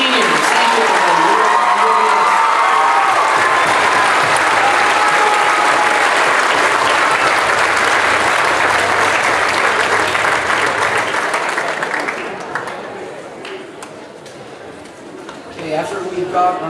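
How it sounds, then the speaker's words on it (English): Loud, dense applause and some cheering from a high school spring band concert audience honoring the seniors, sustained for about twelve seconds and then tapering off toward the end. "Let's have one big last round of applause for all of our seniors."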